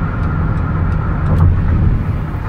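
A used 2017 Dodge Caravan GT wheelchair mobility van drives along a road, a steady, fairly loud low engine and road rumble heard from inside, swelling slightly midway.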